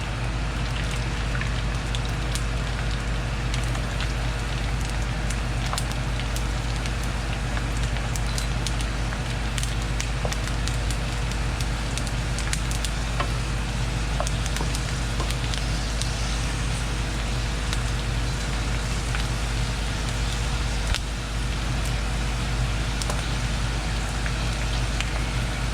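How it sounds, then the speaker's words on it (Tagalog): A kitchen exhaust fan running at higher speed while pork skin chicharon cooks, producing a constant broadband whooshing hum with faint crackles throughout. "Lalakasan ko lang yung exhaust."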